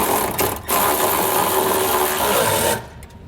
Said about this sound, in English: You're going to need to have a wrench on that back end.